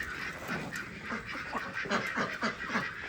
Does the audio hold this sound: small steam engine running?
no